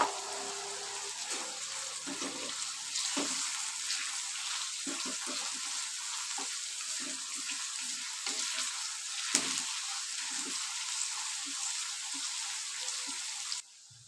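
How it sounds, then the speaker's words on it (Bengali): Onions frying in oil with salt for a mutton curry, a steady soft sizzle running throughout with scattered small pops and clicks, fairly quiet and close, no talking. "যতক্ষণ না পেঁয়াজগুলো সোনালি কালারের রং এসে যাচ্ছে ততক্ষণ ভেজে নেব।"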